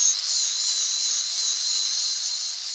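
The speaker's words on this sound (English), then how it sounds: "We got a piece of grinding pad on there, or not grinding pad, sandpaper. Is that 80 grit?" Power sanding on a woodturning lathe with an 80 grit sanding pad against wood, giving a steady, loud, high-pitched hissing whine that holds evenly throughout with no talk.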